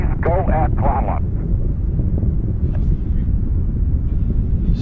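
Space Shuttle Atlantis climbing at throttle up, heard as a dense, steady low roar. A radio voice talks over it at the start.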